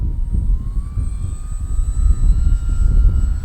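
A Durafly Ugly Stick V2 RC airplane flies in strong wind, its electric motor whining steadily over loud, constant wind buffeting on the microphone, with the pitch rising slowly.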